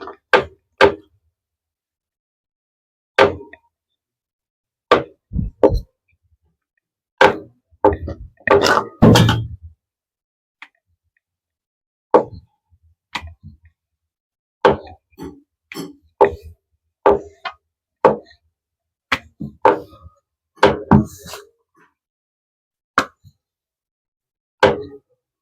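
A wooden rolling pin works flour-dusted nimki dough on a board, giving scattered knocks and soft thuds. Some come singly and others in quick clusters, separated by quiet gaps, with no talk.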